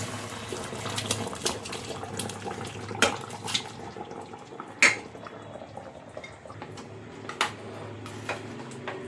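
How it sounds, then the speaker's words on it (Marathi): Water swirled and poured while rinsing out a mixer jar during mutton curry cooking, a continuous low sloshing with scattered sharp clinks and taps of the vessel, moderately close. "आपण इथे मिक्सरचं भांडं धुवून आणि हे पाणी सुद्धा इथे टाकून घेऊया"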